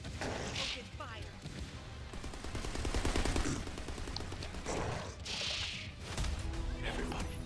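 Gunfire in the video game The First Descendant, rapid bursts of automatic shots and heavy impacts that keep going throughout, loud and mixed with voices talking over the action.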